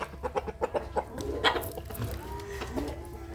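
Chickens clucking in a coop while being fed corn, a series of short clucks and calls close by over a steady low farmyard rumble.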